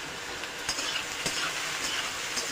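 Bottle gourd pieces with salt and turmeric frying in a pan, a steady close sizzle with a few soft scrapes and clicks from stirring, and no speech.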